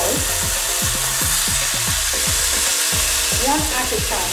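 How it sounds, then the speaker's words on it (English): Bacon slices fry in hot oil in a pan with a loud, dense sizzle, crackling and popping steadily throughout along with repeated scraping or tapping sounds close by. "Place your bacon slices into the"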